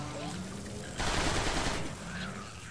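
Burst of rapid automatic gunfire in Transformers: Rise of the Dark Spark, about a second of dense loud shots over ongoing game ambience.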